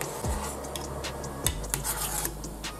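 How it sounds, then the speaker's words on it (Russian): Spoon stirring sugar syrup in a saucepan, with a couple of scraping strokes against the pan over a steady low hum, and soft clinks and taps between them, close and fairly quiet. "Мешаем, пока не закипело."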